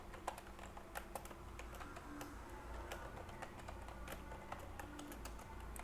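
Code is typed on a computer keyboard in a quiet room: faint, irregular clicking keystrokes in quick bursts with brief pauses, and no voices.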